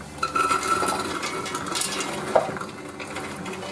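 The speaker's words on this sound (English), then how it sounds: "The beans back in the cooking pan." Cooked goat beans rattle and clatter into a metal cooking pan, with a few scraping clinks against the sides, fairly close.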